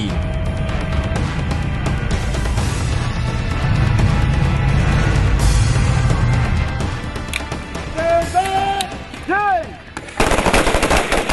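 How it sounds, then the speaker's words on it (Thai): Bursts of gunfire from live-fire weapons training at night during a naval exercise, loud and continuous with repeated volleys and machine-gun rattles, joined by whistling tonal sounds near the end. "การฝึกยิงอาวุธจริงในเวลากลางคืน"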